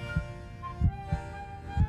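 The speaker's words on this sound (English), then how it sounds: "The sound of a heartbeat is an affirmation of life." Human heartbeat throbbing low and steady, two paired lub-dub beats about a second apart, close and muffled over a soft sustained hum.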